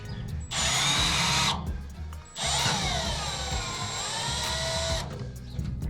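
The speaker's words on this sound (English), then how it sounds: "Hopefully with the drill spinning the right way." A power drill whirs loudly in two bursts while drilling holes to fit car bonnet pins, a short one and then a longer run, with a brief quiet gap between them.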